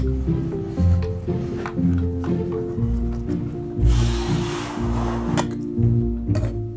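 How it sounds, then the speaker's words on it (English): A wet animal hide is scraped for parchment, giving repeated close rubbing and scraping strokes with wet, squishy texture, one longer hissing pass midway, over a low background hum. "First, he scrapes the hide while it's wet to remove excess moisture."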